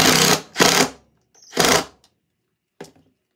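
A power drill driving screws whirs in several short bursts nearby, each a second or less, with brief pauses between and a final quick blip.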